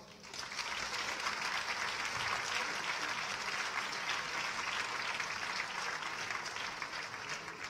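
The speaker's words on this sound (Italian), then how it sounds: "Un applauso." A cinema audience at a referendum campaign rally in Florence's Cinema Odeon applauds, a dense, steady wash of many hands clapping that holds at an even level for several seconds before easing slightly at the end.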